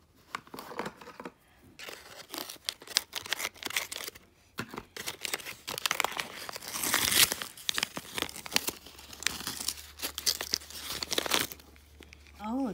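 Plastic and cardboard packaging of a Baby Alive Foodie Cuties doll being cut and torn open, close and busy crinkling, ripping and rustling that swells and fades in bursts.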